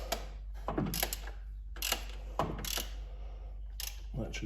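Wrench ratcheting on the single 13mm bolt at the bottom of the alternator on a 1988 VW Golf 1300 with the 1.3 NZ engine, giving short metallic clicks and clunks in bursts over a steady low hum.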